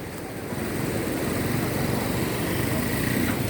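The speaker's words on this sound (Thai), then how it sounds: "ใช้เครื่องยนต์ของฮีโน่ครับ" A Hino diesel engine, likely a six-cylinder unit driving a gearbox on a Thai racing longtail boat, runs at a steady loud roar with broadband rumble and no break throughout.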